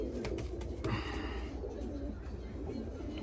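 A female Şam pigeon gives low, soft coos close by, mixed with rustling and faint background sounds.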